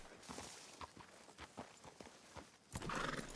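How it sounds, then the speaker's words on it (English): A horse in a video game clip-clops along with soft rhythmic hoof falls, then lets out a whinny near the end, fairly faint and without speech. "Stupid horse."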